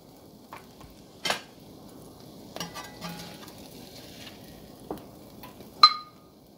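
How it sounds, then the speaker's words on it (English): Food going back into a pan in a Caribbean quesadilla cook, with a few sharp utensil clinks and scrapes against the pan over a faint sizzle, sparse and close. "And then I'm just going to put them back into this pan"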